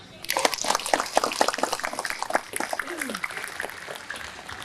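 A burst of clapping from a crowd, loud and busy for a few seconds, then thinning out with some murmuring underneath.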